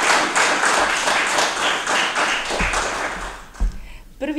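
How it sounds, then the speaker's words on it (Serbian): A book-launch audience for Nele Karajlić's novel Solunska 28 gives a warm, dense round of applause that fills the room for several seconds before thinning out into a few scattered claps and thumps. "molim vas za jedan topli aplauz"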